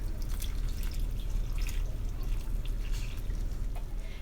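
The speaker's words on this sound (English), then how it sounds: "2 cups of water." Two cups of water go into sourdough bread dough with a soft, continuous trickle and scattered drip-like splashes at a steady level, with no voices.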